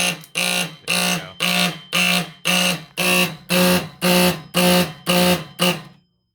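Heat detector fire alarm sounding loudly up close, about eleven evenly spaced harsh buzzing pulses in a steady rhythm before it cuts off.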